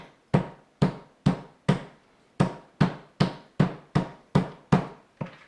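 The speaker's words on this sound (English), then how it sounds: "take my meat tenderizer, and we're going to pound these out real good" Trimmed steaks for chicken fried steak are pounded with a meat tenderizer: about a dozen heavy, evenly spaced thuds, each sharp and close with a short decay, with a brief pause after the first few blows.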